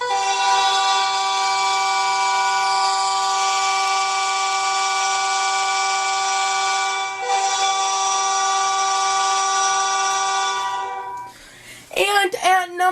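The Montreal Canadiens' NHL goal horn blares loud and sustained, a train-like multi-tone chord held for about eleven seconds with a brief dip midway, then cut off as a voice starts talking.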